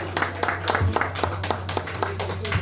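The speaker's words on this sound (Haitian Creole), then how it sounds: "On applaudit s'il vous plaît." Audience applause at a rara gathering in Léogâne, Haiti, marking an anniversary celebration: steady clapping from a crowd, moderately loud and continuous for a few seconds, with a low hum running underneath.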